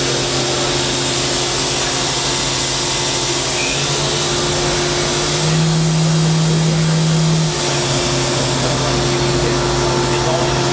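A Fadal 3016FX vertical machining center spindle spinning at about 9,500 RPM, a steady smooth whine with a constant hum, continuous and close throughout.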